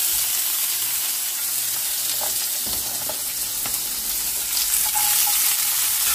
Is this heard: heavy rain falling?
no